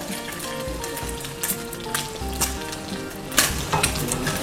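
Scrambled eggs sizzling and frying in a pan, a continuous crackling hiss with scattered pops and scraping stirs, close and moderately loud.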